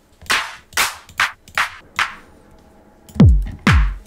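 A crisp electronic clap sample in a beginner house beat, struck five times in an even rhythm, followed by two deeper, heavier hits with a falling tone, each sounding alone and clean.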